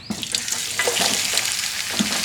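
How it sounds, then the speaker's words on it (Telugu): Cut ber fruit pieces drop into hot oil and fry, a dense crackling sizzle with a few sharper pops, close and steady for about two seconds, without speech. "రేకాయలు కట్ చేసుకున్న రేకాయ ముక్కలు వేసుకుందాం ఫ్రెండ్స్ అవి కొంచెం దోరగా వేయించుకుందాం"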